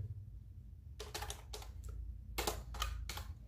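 Clicks of a computer keyboard while Arduino code is typed, several short quiet bursts of keystrokes separated by brief pauses.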